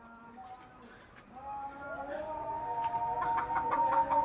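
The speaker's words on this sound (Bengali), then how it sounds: "এটা হলো মুরগির ঘর" Chickens at a chicken coop cluck and call, starting sparse and growing busier and louder toward the end, with a faint speaking voice in the background.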